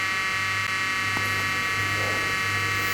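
Simplex fire alarm signal sounding during a test, a steady electronic buzzing tone held continuously at moderate level with a low hum underneath and a few faint clicks.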